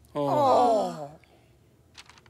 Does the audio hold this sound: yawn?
yes